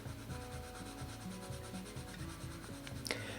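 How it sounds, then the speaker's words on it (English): A colored pencil presses steadily across paper at the burnishing stage, a soft, close, continuous scratchy rubbing with short repeated strokes, faint and without talk. "I'm on the burnishing stage, so I'll be laying down the pencil a bit more concentrated and deliberately."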